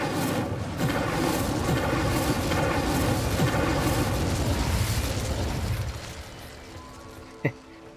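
A fire spell blast in Hogwarts Legacy produces a dense roaring, crackling burst that holds strong for several seconds before dropping off, ending with a single sharp impact.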